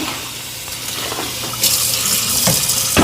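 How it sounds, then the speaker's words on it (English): Tap water runs steadily at close range to rinse out a mop, a constant splashing gush that gets louder and fuller partway through, with a few knocks and clunks and no talking. "We're gonna turn on the water."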